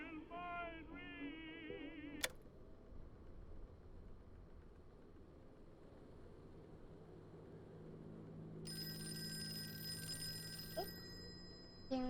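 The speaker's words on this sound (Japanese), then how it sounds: "電話だ。" An in-game telephone ringing in the horror video game Call of Cthulhu: a steady electronic ring sounds for about two seconds late in the clip, after earlier warbling tones and a quiet ambient hum.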